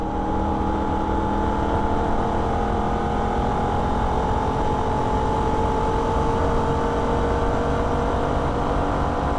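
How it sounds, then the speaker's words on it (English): Holden VF Ute engine pulling hard on a Nürburgring lap, a loud, steady droning roar with sustained engine tones that hold and slowly climb, continuous with no voices. "Upshift to fourth gear."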